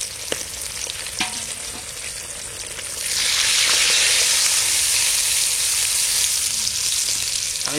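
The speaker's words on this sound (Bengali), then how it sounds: "মাছগুলো সুন্দর কড়া কড়া ভাজা হয়ে গেছে" Hilsa fish pieces fry crisp in hot oil, first with a moderate crackle and scattered pops, then swelling into a louder, dense, steady sizzle that continues to the end.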